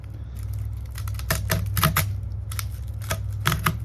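Saw or cutter chewing through the copper windings of a large old toroidal transformer, giving a series of sharp, uneven rasping bursts over a steady low hum, close and fairly loud, no talk.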